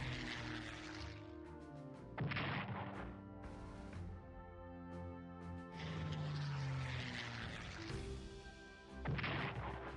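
Warplanes attack in Strategic Command WWII War in the Pacific, with propeller engines droning and swelling across several passes and loud blasts and crashes bursting in at intervals.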